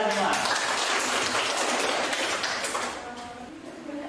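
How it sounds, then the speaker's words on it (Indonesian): Classroom applause during a lesson: dense, steady clapping from a group of students, fairly close and loud, fading a little toward the end with a voice briefly audible beneath. "Tepuk tangan untuk kita semua."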